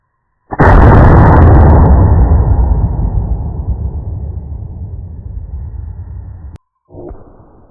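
.50-110 rifle firing a 705-grain bullet into a five-gallon bucket of packed clay: one very loud, close gunshot boom with a long rolling echo that decays for several seconds, then a brief low thump near the end.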